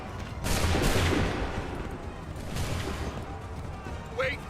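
Musket volley fire in Assassin's Creed 3: a loud crackling burst of many shots near the start, a second ragged volley around the middle, and a faint call at the end, with battlefield noise throughout.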